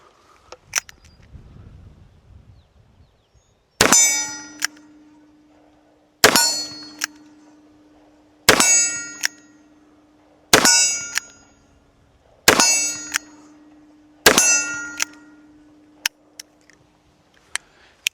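Seven sharp, loud gunshots from .45 Long Colt factory loads crack out one at a time, evenly spaced about two seconds apart, each with a short ringing tail and quiet in between.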